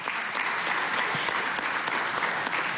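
Audience applause for an urban music ensemble at a university enrollment event, a steady even patter of many hands clapping, fairly distant and moderately quiet.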